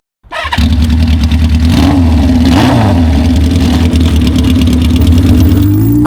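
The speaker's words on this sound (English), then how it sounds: "it's got no exhaust muffler on it, so you're gonna hear it and you're gonna feel it in your bones" A 1979 Honda CB550 cafe racer with no exhaust muffler barks to life and runs loud and close, its raw engine pulsing steadily with a rev swell partway through.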